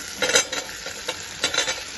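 Potatoes tossed into a pan with ginger frying in oil, a spoon stirring in a few quick scraping strokes over a steady sizzle, close and clear, without talk.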